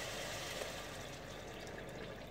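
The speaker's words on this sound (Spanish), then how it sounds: "a todo este preparado que tenemos aquí de las carnes, la verdura y todo, le vamos a añadir agua" Water pours steadily into a stew of rice with pork ribs, meat and vegetables, a continuous close rushing splash with no talk.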